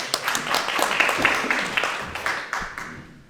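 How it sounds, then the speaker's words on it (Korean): Short applause from parents gathered at an art academy presentation in Cheonan, scattered clapping with irregular sharp peaks, fairly close, fading out over about three seconds. "박수 부탁드립니다."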